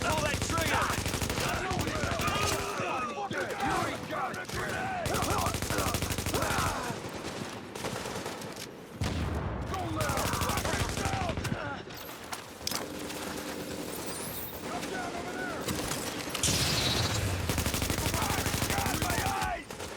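Bursts of rapid automatic gunfire and scattered shots in a shooter video game, dense and continuous throughout, with a player's voice talking over the action at times.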